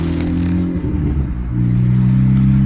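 A VW Golf 1.6 MSI idles with a loud, deep rumble through an open exhaust diffuser, steady and close, with a brief rougher dip midway before settling back into a strong drone.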